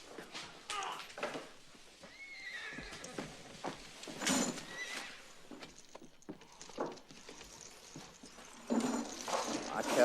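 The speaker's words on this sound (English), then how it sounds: "The horse is outside." A horse whinnies outside a town hotel in an old Wild West setting, its call rising over clip-clop hooves and background commotion with people talking.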